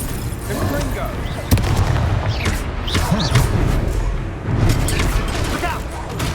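The Confringo blasting spell goes off in Hogwarts Legacy, with booming bursts and crackling impacts in the middle of a spell battle, loud and continuous, while a voice calls out over the action.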